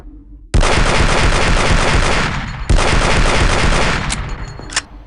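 A grenade launcher firing in AVP2: Primal Hunt, two loud, close, roaring blasts each trailing into a long rumbling decay, followed by a few sharp clicks.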